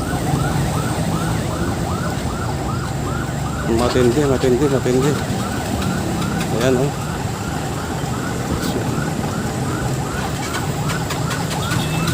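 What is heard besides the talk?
ambulance sirens in traffic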